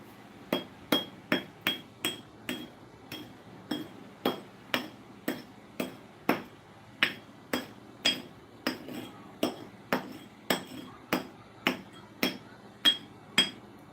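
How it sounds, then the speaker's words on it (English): A coarse barber's sharpening stone is knocked into smaller pieces with sharp, hard clicks. Around twenty evenly spaced strikes ring out close and distinct against a quiet background. "I'm breaking them to pieces, to smaller ones, to remain the same on the surface. You see the way I'm knocking?"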